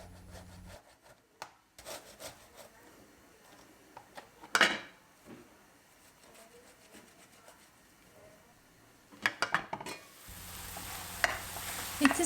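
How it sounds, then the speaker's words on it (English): Warm boiled potatoes are rubbed against the coarse side of a grater, producing faint, scattered scraping strokes in a quiet kitchen, with a few sharper louder rasps toward the middle and end. "grate the potatoes with the coarse side of the grater"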